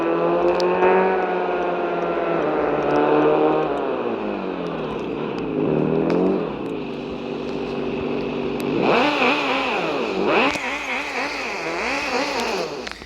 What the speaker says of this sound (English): So that's the sound of the car in case you wanted to hear it.